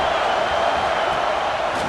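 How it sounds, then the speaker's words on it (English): A steady, dense roar of a stadium crowd fills a college football video game, an unbroken wash of cheering and noise at a constant loud level with no distinct voices standing out. "This crowd bringing the energy and noise early."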